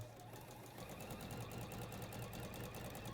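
A sewing machine runs steadily while stay stitching fabric, a close rapid mechanical whirr with an even rhythmic pulse, unbroken and alone.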